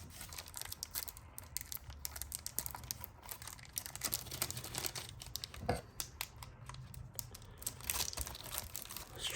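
The plastic wrapper of a vintage trading card pack is torn and crinkled open, a close, steady stream of sharp crackles, rustles and snaps that continues without a break.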